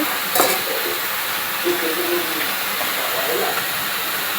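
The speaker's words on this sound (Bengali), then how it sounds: "আলু সহ মাংস একেবারে কষাতে থাকবো।" Chicken and fried potatoes being sautéed in a pan, a steady close hiss of frying with occasional stirring knocks and scrapes, no voices.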